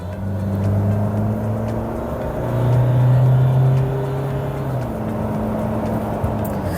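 A 2024 Fiat Titano pickup accelerates on a road, its engine droning steadily from inside the cabin and rising to a stronger hum midway before easing back, with no talk.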